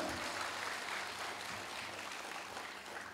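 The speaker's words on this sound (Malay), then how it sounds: "Kita berikan tepukan untuk semua." Audience applause in a seminar hall during a women's leadership seminar in Sabah, a steady wash of clapping that fills the room at moderate level and holds for about three seconds, with a faint voice underneath.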